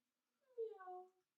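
A person imitates a cat's meow, giving one drawn-out, voiced, nasal call of about half a second that rises and falls, close and clear, with no other talk.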